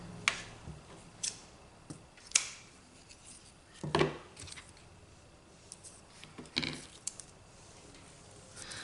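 Scissors cut off ribbon tails on handmade Christmas tags, several sharp, close snips and clicks scattered irregularly over a quiet stretch with no talking.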